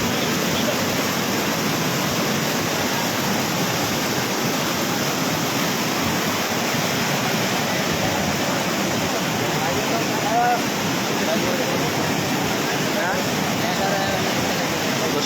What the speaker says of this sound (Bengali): আপনাদেরকে যদি একটু পানিটি দেখাই আমরা কেমন স্রোতে পানি আসতেছে